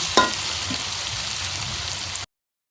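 Chicken pieces land in a pan of fried onions and whole spices for chicken biryani, bringing a brief clatter, then a steady, close frying sizzle that cuts off abruptly.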